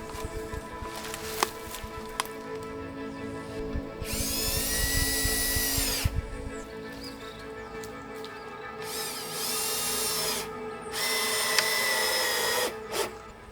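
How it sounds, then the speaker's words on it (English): A power drill drives screws through boards outdoors, with several bursts of high whining motor of a couple of seconds each, separated by quieter gaps with handling noise. "now it's time to screw them in place"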